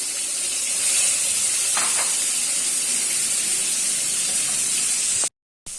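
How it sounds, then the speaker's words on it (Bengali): Pre-fried pieces of katla fish go back into a hot wok, giving a steady, bright sizzling hiss of oil that holds evenly with no talking, then cuts off abruptly. "আগে থেকে ভেজে রাখা মাছগুলোকে এক এক করে আবার কড়াইয়ে দিয়ে দেব"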